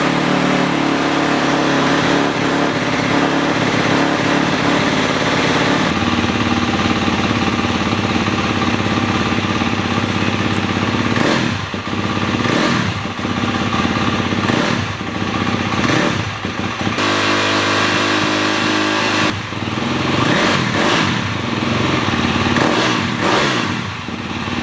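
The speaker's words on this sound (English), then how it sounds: "Now I'm gonna fire this thing up and see if it leaks any oil." A KTM 250 dirt bike engine, freshly rebuilt after case welding, runs loud and close, idling roughly then revving in repeated sharp bursts over about twenty-five seconds, with no speech.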